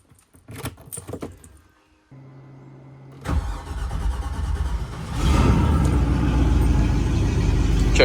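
A MerCruiser boat engine cranks over and catches, first starter clicks and a brief whir, then a loud rumbling idle that swells into a heavier, louder roar with no talking.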